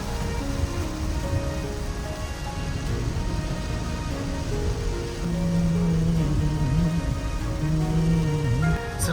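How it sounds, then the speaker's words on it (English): Steady, dense heavy rain patter fills the scene around a Jaecoo J6 electric SUV, continuous and fairly loud, with a low rumble underneath and faint tonal hum throughout. "It's raining cats and dogs."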